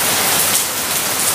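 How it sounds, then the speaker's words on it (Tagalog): Steady rain pours down outdoors on a hot day, a dense continuous hiss of drops striking surfaces, loud and even throughout with no talking. "Ngayon, umulan."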